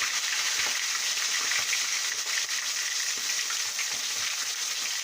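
Chicken pieces seasoned with turmeric and salt sizzle loudly in a hot pan, a constant close crackling fry with faint stirring scrapes underneath and no talking.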